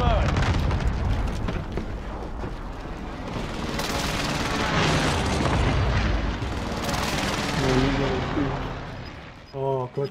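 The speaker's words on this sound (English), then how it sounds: "Enemy precision airstrike." Enemy precision airstrike in a video game: a broad, rumbling barrage of heavy explosions and booms rolling on for several seconds, loud and continuous, with a brief snippet of voice near the end.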